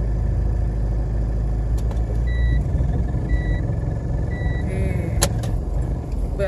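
Car passing on a street, a steady low engine rumble filling the scene with faint intermittent beeping and background noise, no clear single pass-by peak.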